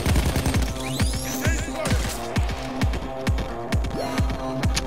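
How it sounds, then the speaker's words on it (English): Steady gunfire from a Payday 2 bank heist, rapid repeated shots in a fast rhythm throughout, loud and close, with a busy mix of game effects layered over it. "who's shooting me, man?"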